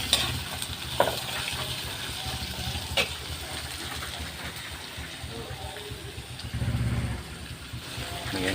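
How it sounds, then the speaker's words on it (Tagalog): Chayote and green beans stir-fried for ginisang miki, a steady sizzle with scraping of the spatula in the pan and occasional knocks, while a person talks over it. "Pwede na natin itong halu-haluin."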